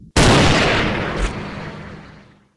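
A sniper rifle fires once in the video game Hunting Sniper, a single loud, sharp blast with a long rolling tail that fades over about two seconds.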